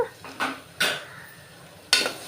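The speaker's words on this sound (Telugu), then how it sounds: "ఇవి బాగా కలిపి వేయించుకోవాలి ఉల్లిపాయలు వేగినంత వరకు వేయించుకోవాలి" A spoon scrapes and clinks against a pan while chili powder and salt are stirred into frying onions, with three or four distinct knocks spread over a couple of seconds, close by and without talk.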